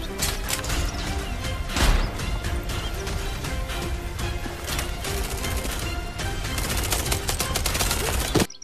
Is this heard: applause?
no